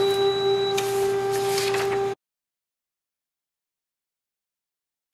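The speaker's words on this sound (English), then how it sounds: "So it is printing." A Canon imageClass MF654Cdw printer prints a document, giving a steady mechanical whir with a sustained tone and rustling feed noises for about two seconds before cutting to silence.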